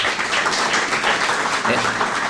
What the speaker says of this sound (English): Can we give them a round of applause also?